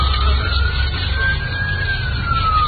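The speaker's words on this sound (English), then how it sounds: "in the background, you can faintly hear the sounds of sirens approaching" A wailing siren sweeps slowly in pitch over a low rumble, steady and moderately loud, with no speech over it.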